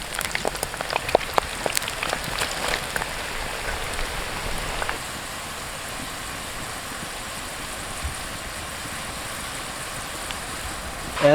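Jackfruit slices drop into very hot oil in a pan after curry leaves have been fried, giving a steady, rain-like crackling sizzle that is busier at first and then settles into a softer, even hiss.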